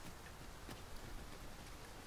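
Steady rain falling in the video game Dragon's Dogma II, a soft, even wash of patter with no breaks, fairly faint and without any voices.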